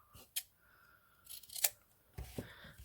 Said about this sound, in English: I'm just going to cut that down a little bit more